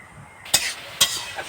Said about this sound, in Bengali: শাকটা ভালোভাবে এই যে ভাজা হচ্ছে দেখো